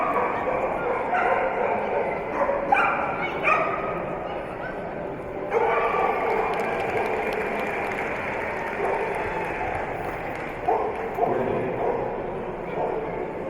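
A happy dog barks and yips during a 20-inch jumpers-with-weaves agility run at the AKC/Eukanuba National Championship 2014, short bursts rising over constant crowd noise and a commentator talking.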